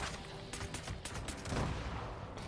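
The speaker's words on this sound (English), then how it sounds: "an automatic grenade launcher in VATS is really, really powerful" An automatic grenade launcher firing in Fallout 76, rapid rumbling bursts and booming blasts rolling together in a dense, continuous barrage, with no talking.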